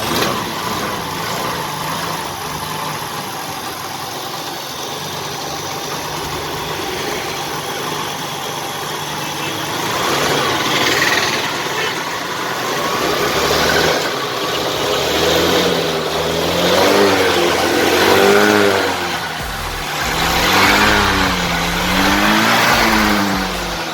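A Hero Duet scooter engine runs after a kick-start. It idles with a close, steady putter, then revs up in louder swells through the middle, settling and rising again toward the end.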